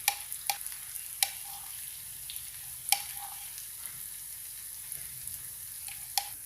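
Onions and garlic fry in a pan with a steady, quiet sizzle, punctuated by occasional sharp pops and crackles spread across several seconds.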